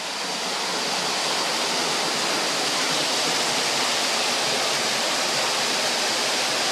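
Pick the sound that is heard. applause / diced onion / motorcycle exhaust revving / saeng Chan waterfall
saeng Chan waterfall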